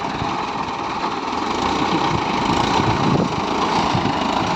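A tractor engine runs steadily as the tractor reverses with the steering turned fully. The low mechanical drone is loud and continuous, with a slight rise partway through and no talk.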